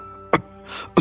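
Two sharp, harsh coughs after choking, about half a second apart, close and loud, with a faint breathy rasp between them.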